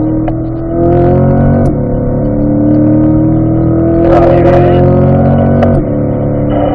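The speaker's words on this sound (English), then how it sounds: "We'll go ahead and select third gear here. We'll accelerate up to fourth." A car accelerating hard and shifting from third up to fourth gear. The loud, close engine note climbs steadily, then drops briefly at the gear change before pulling again.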